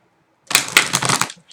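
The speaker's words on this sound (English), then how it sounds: "One more shuffle." Tarot cards being shuffled by hand, a short burst of dense riffling and flicking about a second long after silence, close and fairly loud, with another shuffle starting at the end.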